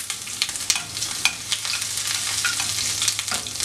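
A spoonful of ginger sizzles in hot oil with popped mustard seeds, a steady close frying hiss broken by scattered crackles and a few stirring clicks, with no voices.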